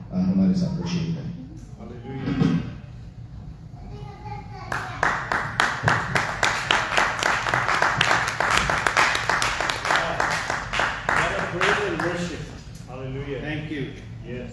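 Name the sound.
church congregation applause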